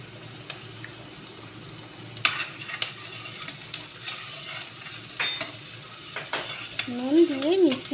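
Chopped onion fries with salt in a pan and is stirred, making a low continuous sizzle with sporadic spatula scrapes and taps. A warbling whistle-like tone rises near the end.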